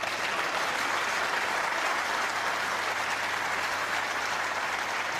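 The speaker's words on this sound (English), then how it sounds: "Applause richly deserved for that one." Applause from the arena crowd after a snooker shot in the 2014 World Championship final between Selby and O'Sullivan, a loud, even, sustained roar of clapping that holds steady throughout with no voices over it.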